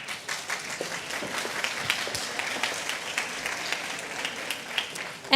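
Steady applause from a conference audience welcoming a moderator to a health-care panel, moderately distant and even throughout, ending with a louder thump.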